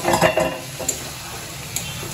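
Chicken curry stirred and sautéed in a pan at home, a sizzle under scraping spoon strokes against the pan, busiest at the start and then settling into a steady low fry.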